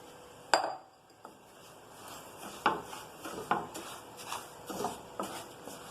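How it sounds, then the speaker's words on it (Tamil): A utensil clinks and scrapes against a pan while semolina roasts in ghee, giving sparse, sharp taps at uneven intervals over a quiet background, with no talking. "கொஞ்சம் நெய் விட்டுட்டு நம்ம ரவையை வறுத்து எடுத்துடலாம்."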